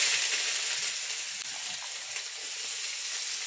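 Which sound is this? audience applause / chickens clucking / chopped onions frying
chopped onions frying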